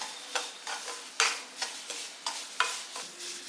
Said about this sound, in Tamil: இப்போ ரவை வந்து இந்த மாதிரி செவக்க வறுத்துக்கணும்